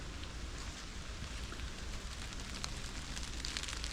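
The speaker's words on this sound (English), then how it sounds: "A little bit of rain, or it's windy and it's coming off the trees" Faint, steady patter of light rain dripping from trees, with scattered drips, soft and continuous outdoors on Brunet Island in autumn, no voices.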